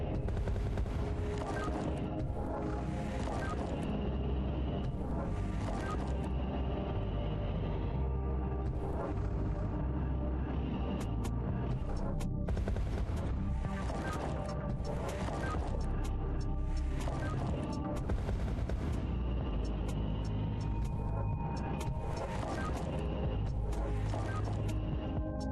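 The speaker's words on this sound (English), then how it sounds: "we're gonna need a whole lot more dynamite. Explosions." Dynamite blasts set off while mining in a lava-land video game, a dense run of loud booming explosions and crackling bursts close up, almost continuous throughout with brief dips between clusters.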